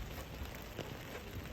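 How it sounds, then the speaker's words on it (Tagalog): Rain falls steadily on a wet Sunday in Canada, a dense, even patter of drops on a surface with no talk. "Maulan na linggo."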